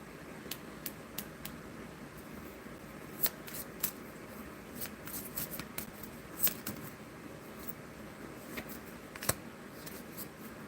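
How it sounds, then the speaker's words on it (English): Tarot cards are shuffled by hand in soft, irregular bursts of riffles and slaps, with sharp card clicks scattered across the stretch, close and fairly quiet, with no talk. "That's a card that just fell out while I was shuffling, Kelly."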